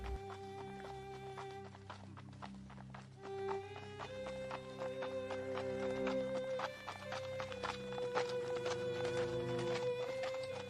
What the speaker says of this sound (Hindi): राजा तथा वह मंत्री दोनों अपने अपने घोड़े पर सवार होकर निकल पड़ते हैं।